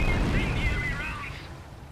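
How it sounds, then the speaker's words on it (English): Artillery barrage in Company of Heroes, a dense continuous roar of rumbling shellfire that fills the short stretch and fades slightly toward the end. "Continue to barrage the enemy squad until they are defeated."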